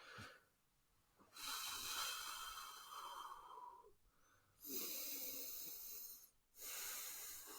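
A podcast guest breathes heavily into a close microphone, with long hissy, wheezing exhalations and inhalations separated by short pauses, with no talking over it.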